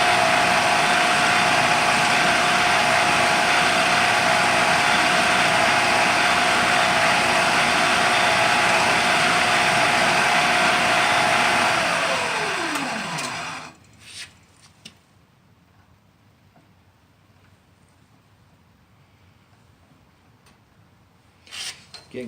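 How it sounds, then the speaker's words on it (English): A hacksaw cuts a slot into a rifle case die held in a chuck, a steady loud rasping drone for about thirteen seconds that winds down and stops, followed by near silence with a few faint knocks. "I'm going to use the hacksaw"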